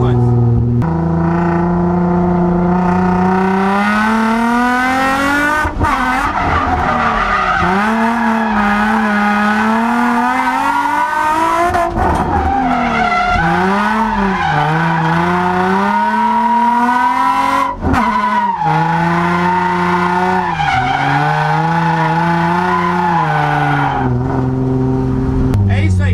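A drift car slides through a hairpin curve in second gear, its engine revving loud and continuous with rising and falling pitch swells, close and alone with no talk over it.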